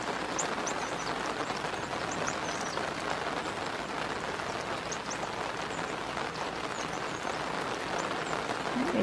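Steady rain pours down in a Georgia woods, a dense continuous patter close by with faint bird chirps scattered above it and no talking.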